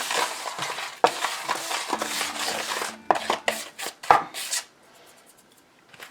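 Seasoned breadcrumbs with cheese for Italian stuffed artichokes being mixed by hand, a close, steady gritty crunching and rubbing with a few sharper knocks against the bowl, fading out near the end, no talking.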